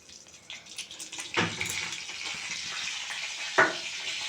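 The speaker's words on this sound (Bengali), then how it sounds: "একসাথে ভেজে নেবো ফুলকপি আলুটা।" Cauliflower and potato hit hot oil already used for frying paneer and seasoned with whole garam masala, giving soft sizzling and stirring with a couple of sharp clattering pops, fairly quiet and close.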